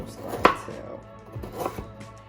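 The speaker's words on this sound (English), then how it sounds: "I'm going to chop up some carrots really quick." A knife chops carrots on a cutting board in a home kitchen: a sharp, prominent thunk followed by a couple of softer cuts, close and clear with no talking.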